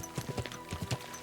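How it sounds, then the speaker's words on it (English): Horse hooves clip-clopping in the video game Kingdom Come: Deliverance 2, a quick run of close, evenly spaced hoofbeats with no talk. "Easy, good horse."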